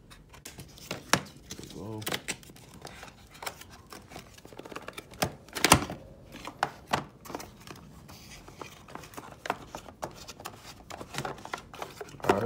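Packaging for a 1991 BMW M3 model car being opened by hand: scattered crisp clicks, crinkles and cardboard taps in an irregular rhythm, close up, with a brief spoken remark.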